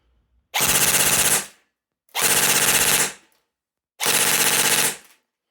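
A Well Pro WE10-2 DSG airsoft SMG firing full auto in three loud, close bursts of about a second each, a rapid buzzing rattle with clear gaps of silence between bursts.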